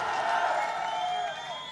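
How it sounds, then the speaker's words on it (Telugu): A crowd at a political speech cheering and clapping, a dense, loud wash of voices and hands with whoops rising over it, sustained and close throughout. "అందుకే మీరందరూ గట్టిగా చప్పట్లు కొట్టి చెప్పాలి"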